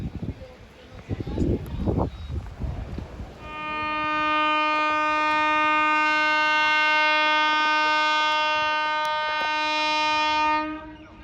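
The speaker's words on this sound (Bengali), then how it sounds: "আমি একটু দূরে চলে এসেছি ট্রেনটাকে ভিডিও করার জন্য দূর থেকে" A long horn blast from an express train heard from a distance, sustained and tonal for several seconds after some bursts of talk and ambient noise at the start.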